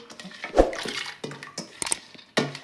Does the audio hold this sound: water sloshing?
yes